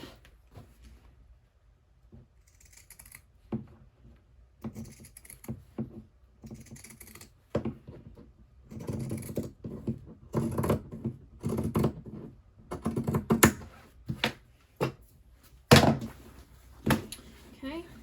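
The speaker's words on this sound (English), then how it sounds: "I am going to grab my pinking shears again" Pinking shears trim sewn fabric, giving a run of soft irregular snips and clicks that start sparse and grow busier and louder, with a brief voice in the background.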